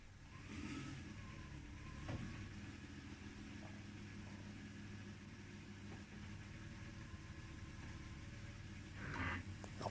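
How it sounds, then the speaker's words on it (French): Porsche Cayenne 3.2 V6 engine runs at a steady low hum as the car pulls away, with a couple of faint mechanical clunks and a brief rise in revs near the end, fairly quiet and without talking. "Et puis on n'a plus qu'à aller faire un petit tour avec la voiture."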